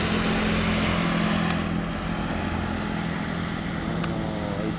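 Helicopter engine warming up on the ground, a loud steady whining drone with constant mechanical hum, unbroken and close for the whole stretch.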